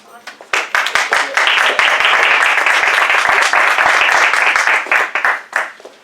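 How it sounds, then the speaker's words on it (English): A crowd breaks into sustained applause, dense clapping that swells quickly, holds steady, then thins out into scattered claps. "just give a round of applause to all our speakers"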